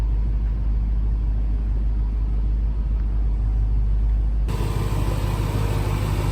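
A crash-rebuilt Range Rover Supercharged pulls away with a steady low engine rumble that turns louder and rougher about two-thirds of the way in, no voices present.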